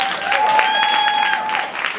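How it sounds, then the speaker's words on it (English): Audience applause at a finance conference talk, a brief dense wash of clapping with a faint tonal whine running through it and a voice briefly over it. "Round of applause."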